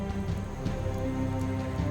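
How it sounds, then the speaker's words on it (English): Rain falls on the African savannah, a steady, dense hiss of drops that stays even and fairly loud throughout, with faint tonal sounds underneath. "Finally, rain."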